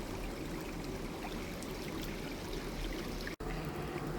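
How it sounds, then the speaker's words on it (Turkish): A creek that feeds the Çubuk 2 dam runs with a steady, broadband rush of flowing water. It stays close and constant throughout, with one very brief dropout near the end and no voices. "Çubuk 2 barajını besleyen dere."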